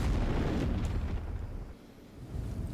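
A big explosion from a Final Fantasy VII full-motion cutscene roars as a dense, loud rumbling blast that fades slightly and then swells again.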